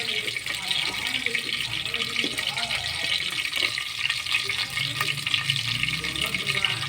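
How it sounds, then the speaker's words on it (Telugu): Green chillies fry in a pan with a steady, bright, close sizzle that runs the whole time, with faint clinks of stirring underneath. "పచ్చిమిరపకాయలు వేసుకొని వేపుకోవాలి."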